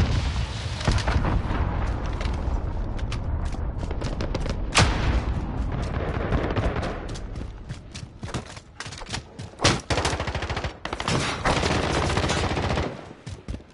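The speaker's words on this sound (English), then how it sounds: "Missile away." Modern Warfare game combat: dense, rapid gunfire and booming blasts from a missile strike and explosion, loud and continuous with brief sharp peaks.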